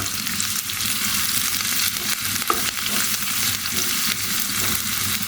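Onions frying in a pan for chicken biryani, cooked in a village home kitchen: a steady, dense sizzle and crackle holds level throughout, fairly close and loud, with a faint stir or clink midway and no talking.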